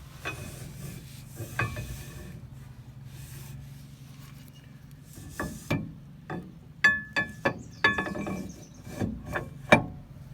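An axle shaft slides back into the rear axle housing of a 1994 Ford F-150, with scattered metallic scrapes, clunks and knocks, sparse at first and then more frequent, close up.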